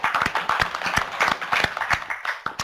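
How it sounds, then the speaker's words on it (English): Brief, sparse clapping from a small group at a research planning meeting, individual claps distinct and uneven for a couple of seconds. "I think that deserves a round of applause."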